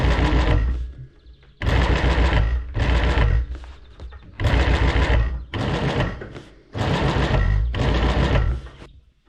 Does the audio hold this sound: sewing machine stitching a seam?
yes